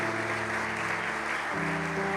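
A church congregation applauding during a Portuguese-language service, continuous clapping heard together with sustained organ-like keyboard chords that shift partway through.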